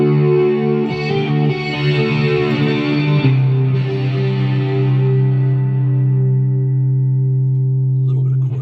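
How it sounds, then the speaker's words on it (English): Electric guitar played through a Tonex One pedal with chorus added, a sustained chord ringing with a shimmering, wavering modulation that slowly decays over several seconds, fairly loud and alone. "little bit of chorus."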